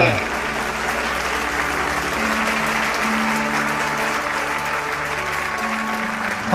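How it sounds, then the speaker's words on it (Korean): Applause from an audience at a large memorial festival ceremony, a steady wash of clapping under sustained music or tones, held at an even level for several seconds. "큰 감사의 박수를 올려주시면 좋겠습니다"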